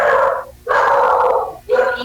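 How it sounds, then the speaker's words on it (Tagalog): A dog barks three times, loud and close, each bark drawn out into a howling, whining tone with short gaps between. "Nagwawala yung aso."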